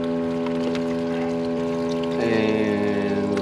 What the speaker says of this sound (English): So I might put a bit more water in.